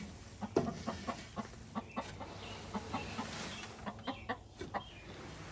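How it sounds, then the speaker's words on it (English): An upset backyard hen clucks insistently inside a coop being cleaned out, giving close, regular clucks roughly every half second, some louder and sharper, over a quiet room hum with no speech. "Oh, the chicken's all upset that I'm in here."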